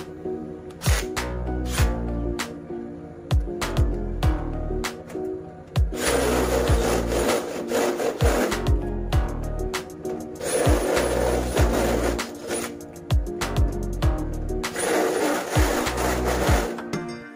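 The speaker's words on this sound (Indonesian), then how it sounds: "untuk bingkai di bagian bawahnya ini kita akan buat lubang menggunakan mata bor pagoda" A step drill bit bores holes in a light steel frame, with several loud whirring, grinding bursts separated by short pauses and tapping sounds, close to the microphone and with no talking.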